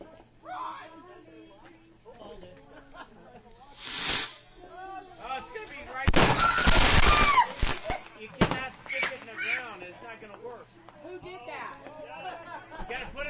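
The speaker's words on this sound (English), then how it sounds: "They left an entire box of fireworks right here next to their car, and they're setting them off." Fireworks are set off outdoors near a parked car, bursting midway into a loud hissing, crackling rush that fades into scattered pops while people keep talking throughout.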